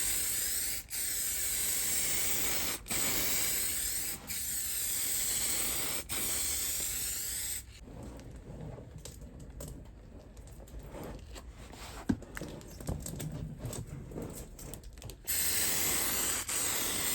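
Spray gun applying the final coat of paint to a Honda VFR 400 NC30 barn-find restoration, in long steady hissing bursts with short breaks, close and loud, then a quieter stretch of rustling handling noise before the spray resumes.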